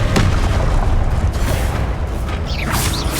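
Spell blasts and impacts from the Confringo fire spell in the video game Hogwarts Legacy, a loud continuous roar of booms and crackling effects with bright whooshing streaks near the end.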